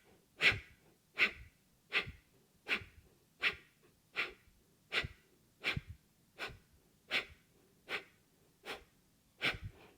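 Rapid, forceful pumping breaths of breath of fire breathwork, about fourteen sharp nasal exhalations in an even rhythm, close and clear with no talking.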